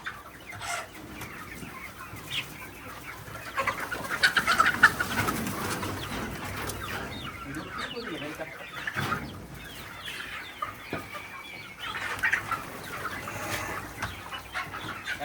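A flock of Sonali breed country chickens clucks and chatters continuously on a poultry farm, a busy layered chorus that swells in the middle, with no talk.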